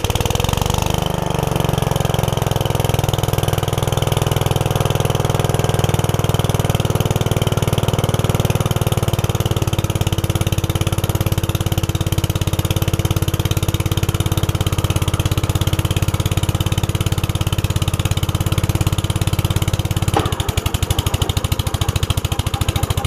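A Gravely 5665 mower engine with a flooding carburetor and bad fuel pump runs loud and steady close by with the PTO engaged, and the pitch shifts near the end.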